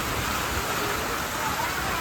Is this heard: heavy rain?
yes